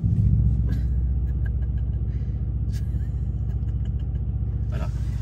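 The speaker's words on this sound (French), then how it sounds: "là le V8 franchement il chante bien" A V8 car engine rumbles close by, a steady low pulsing burble that swells briefly at the start and holds even, with a few faint clicks and knocks over it and no speech.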